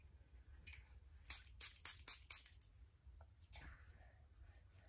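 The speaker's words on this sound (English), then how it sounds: "So I take this and I spray it on my face." A handheld facial mist spray bottle pumped toward the face during makeup removal, several quick soft hissing bursts in a row, close and quiet in a calm room.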